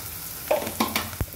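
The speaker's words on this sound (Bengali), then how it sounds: "জিরে ফোড়ন দিয়ে দেওয়া হবে, অল্প করে দাও।" Cumin seeds temper in hot oil in a home kitchen: a brief soft sizzle with a few quick crackles and a light utensil tap, close by and faint.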